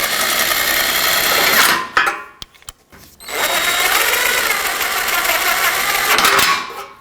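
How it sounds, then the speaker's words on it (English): A power tool drives bolts into the front bumper impact absorber on the frame rail of a 2012-2017 Toyota Camry, whining loudly in two long bursts separated by a brief pause with a few clicks. "I'm just going to start all these bolts in so that it can be properly secured to the frame rail"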